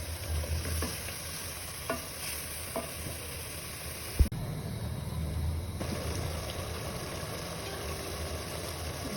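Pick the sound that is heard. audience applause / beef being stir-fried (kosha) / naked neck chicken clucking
beef being stir-fried (kosha)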